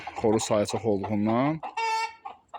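Chickens about 85 days old cluck and a rooster calls nearby, with someone talking over the birds for most of the stretch.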